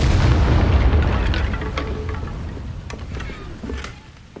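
Confringo fire explosion spell in Hogwarts Legacy, a heavy booming blast with a rumbling low tail that slowly fades, with a few faint crackles and clicks afterward.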